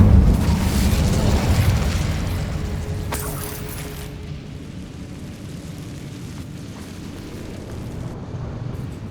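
An Incendio fire spell erupts in Hogwarts Legacy with a loud, broad roaring blast that swells in the first seconds, then thins into a crackling, rumbling fade over several seconds, with no voices.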